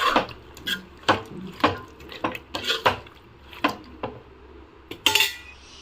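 Chicken and yogurt being mixed in a pot for Bhimavaram-style chicken pulav, a spoon scraping and knocking against the metal pot in a run of sharp, irregular clanks, close and fairly loud, with no talking.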